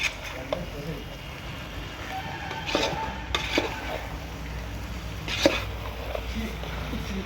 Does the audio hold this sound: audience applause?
no